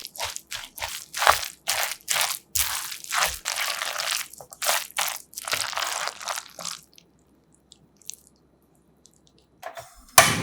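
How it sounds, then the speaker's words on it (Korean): Wet, crunchy squelching of shredded cabbage batter mixed with salt, pepper and heaped spoons of frying powder, kneaded by hand in rhythmic squishy bursts for about seven seconds, then near silence. "골고루 섞어 치대주세요."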